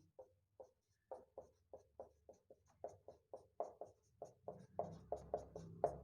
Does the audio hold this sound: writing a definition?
yes